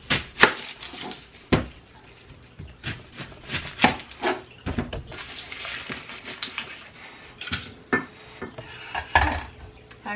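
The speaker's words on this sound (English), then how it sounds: "chop up the onions" Onions being chopped for a mushroom pot roast: a knife knocks sharply and irregularly against a cutting board, mixed with scraping and clattering of kitchen utensils, close by with no talking.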